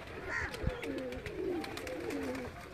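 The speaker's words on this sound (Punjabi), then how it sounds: "ਇਹ ਪ੍ਰਵਾਸੀ ਕਬੂਤਰ ਨੇ" Breeder pigeons kept in a net enclosure at a rural rooftop coo softly in repeated low, rolling calls, fairly close, with faint background sounds and a brief knock.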